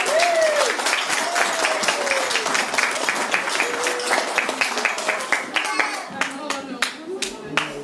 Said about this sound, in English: big round of applause for Janice's two big sisters